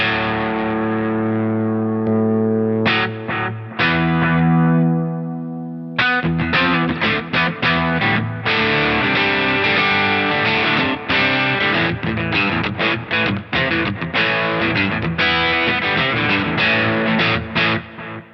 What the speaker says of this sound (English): this is like if you're using the reverb as you normally would, just have it in the effects loop, not parallel.